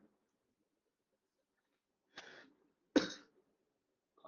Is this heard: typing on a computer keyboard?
no